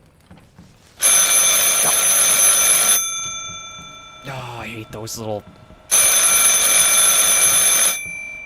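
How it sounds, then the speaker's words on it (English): A telephone in a Bigfoot video game gives two long bursts of loud, bright electric bell ringing, separated by a pause where someone speaks. "I don't even see the phone that's ringing there."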